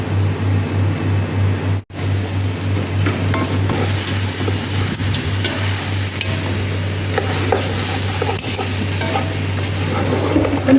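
Meat frying with onion, garlic and ginger makes a loud, continuous close sizzle with stirring scrapes over a low steady hum, briefly cutting out near the start.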